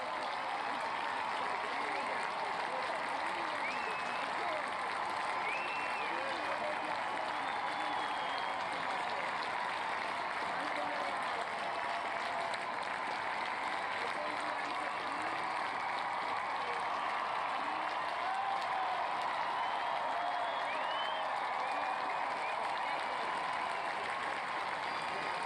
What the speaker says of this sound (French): on voit effectivement la reine apparaître et cette clameur dans le public, cette clameur impressionnante